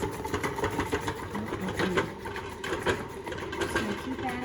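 A KitchenAid stand mixer runs on low with a steady rhythmic mechanical whir and repeated clicks, while a person talks over it.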